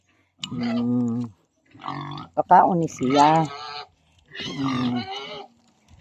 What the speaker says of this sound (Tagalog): Ipakaon ni siya guys sa baboy.